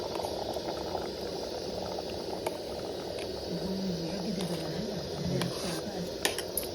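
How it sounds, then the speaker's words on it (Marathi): Crab curry with river crabs boils in a pot, a soft steady bubbling simmer with occasional small clinks and a brief murmur of voice beneath it. "आता मस्त पैकी उकळी येली"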